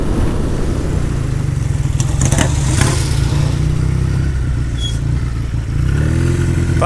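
A classic motorcycle engine runs close and loud throughout, with a steady low throb that swells briefly as the rider revs, ridden on a test outing at the National Motorcycle Museum.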